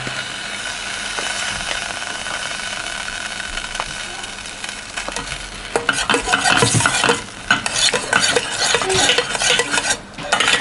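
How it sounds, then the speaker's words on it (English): Butter melts in a pot for a homemade mac and cheese sauce, a low steady sizzle and hum at first, then busy stirring scrapes and clatter of a utensil against the pot, close and fairly loud. "I'm just melting the butter in the pot to the max"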